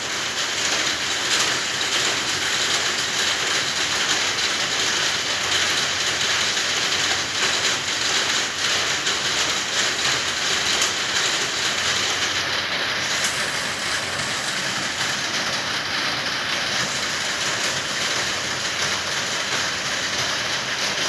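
Rain falls as a dense, steady hiss that stays constant and fairly loud throughout, with no clear voices above it.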